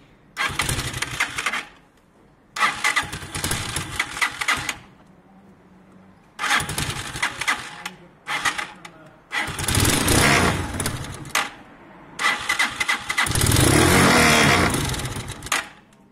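A Piaggio Vespa 50cc scooter with about 5,000 km and half a tank of petrol is started again and again. Short bursts of cranking and sputtering catch, die and restart, ending in a longer revving run, close and loud.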